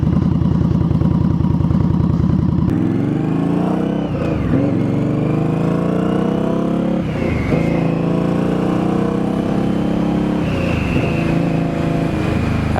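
A Victory Octane motorcycle with an RPW full exhaust idles with a loud, steady, throbbing rumble, then settles into a smooth run with a few brief rises in revs.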